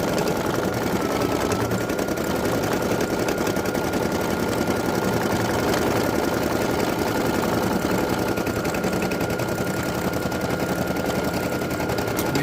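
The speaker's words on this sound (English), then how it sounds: "I'm gonna let it finish stitching now" An embroidery machine stitching a Halloween patch, running with a fast, dense, unbroken mechanical chatter of rapid needle strikes over a steady motor hum, close and constant throughout.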